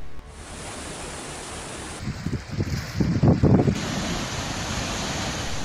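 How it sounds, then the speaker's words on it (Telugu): Krishna River floodwater pours through 39 raised gates of the Jurala dam with a constant broad roar that swells in gusty bursts midway, loud and unbroken, with no voices. "39 గేట్లు ఎత్తి అదే పరిమాణంలో దిగువకు నీటిని వదులుతున్నారు"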